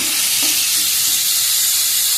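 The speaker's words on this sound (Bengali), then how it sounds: "চিংড়ি মাছগুলো ভাজা হয়ে গেছে, এখন তুলে ফেলছি।" Hot oil hisses and sizzles loudly and continuously as fried prawns are lifted out of the pan, with faint stirring clinks; no voices.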